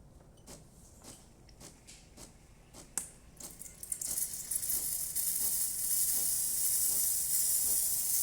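A Breville Barista Touch espresso machine's steam wand: a steady, loud steam hiss builds up after a few seconds of faint clicks and taps, then holds strong and continuous to the end.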